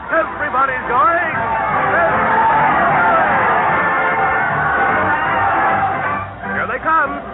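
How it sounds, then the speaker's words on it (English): On an old radio show, a parade crowd cheers and chatters in a continuous babble with whoops rising through it, filling the scene at steady loudness with narrow, old-broadcast sound quality. "Listen to that crowd cheer as Fred Allen leads his parade of stars to the old town hall."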